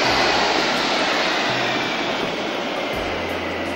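Loud, steady airliner engine noise at Corfu airport, a close broadband roar with a low hum that shifts in pitch as the engine changes, continuous throughout and with no speech.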